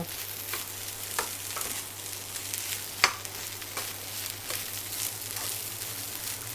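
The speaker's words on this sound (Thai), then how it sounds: "ผัดไปเรื่อยๆค่ะให้เม็ดข้าวเกิดความแห้งแล้วก็เกิดความหอม" Jasmine rice fried with carrot, cabbage, marinated pork, Chinese sausage and egg sizzles in a hot wok while a spatula scrapes and tosses it at a steady pace, with one sharper clank midway.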